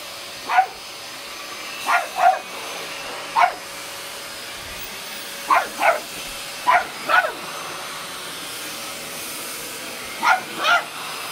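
Small pugs bark in short bursts, often in quick pairs, over the continuous hiss and hum of a vacuum cleaner running in the background.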